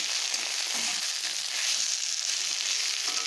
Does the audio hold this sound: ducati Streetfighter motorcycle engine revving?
no